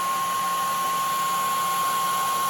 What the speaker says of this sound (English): If you're doing this with a regular hairdryer, I would suggest just being careful with how much heat you apply.